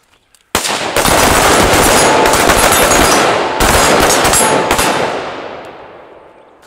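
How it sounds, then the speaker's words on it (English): Rifles firing on an outdoor training range during a moving-and-shooting drill. Loud, close reports come in rapid succession and overlap into a dense roar for several seconds before the echo fades out. "you're moving forward and firing 5 rounds"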